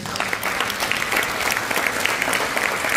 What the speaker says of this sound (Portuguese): Vamos aplaudir o nome de Jesus